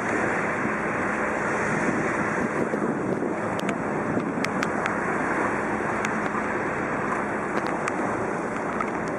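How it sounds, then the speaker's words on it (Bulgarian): Steady roar of rough sea and gusting wind buffeting the microphone, continuous and loud with no voices. "в бурно море и дъждът те вали."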